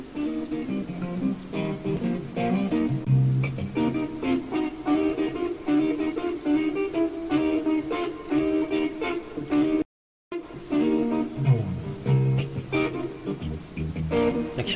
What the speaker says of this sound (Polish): to jest jakiś gość, jakiś gracz, który naprawdę gra sobie na gitarze